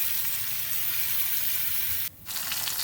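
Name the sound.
soybean chunks frying in a pan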